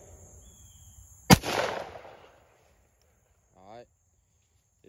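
A single loud, close blast from a Retay Gordion shotgun fired at an outdoor range, followed by a brief fading echo and near silence, with a short stretch of talk a couple of seconds later.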